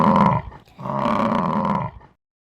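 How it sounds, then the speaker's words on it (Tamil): A buffalo gives two deep, drawn-out bellowing calls, a short one followed by a longer one, loud and close with a brief gap between them. "buffalo"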